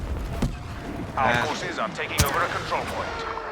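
Star Wars Battlefront multiplayer gunfire and blaster booms crack in scattered bursts over a rumbling battle backdrop, while a player talks over the action.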